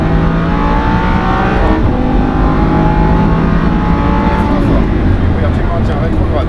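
A Lamborghini Huracan engine drones loud and steady while driving the Le Mans Maison Blanche circuit, its pitch sliding down then climbing again as the car slows and accelerates, heard from inside over constant road and wind roar.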